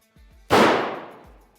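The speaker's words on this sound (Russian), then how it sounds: "вот как обычно стреляет человек." A single loud blast from a Vepr-12 semi-automatic shotgun, fired with the stock held loosely, comes after a couple of soft mechanical clicks and rings out into a decaying echo.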